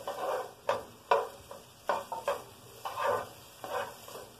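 Sliced onion sizzling in a little hot oil in a pot, a steady crackling hiss with a few sharper bursts of spattering, close up and without any talking.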